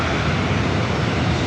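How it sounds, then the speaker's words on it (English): United Airlines Boeing 737-800 jet taking off on runway 27 at San Diego airport, a brief, dense, loud engine roar close by with no voices. "United Airlines heading to SFO, flight 1763, a 737-800, lined up, ready to go, runway 27."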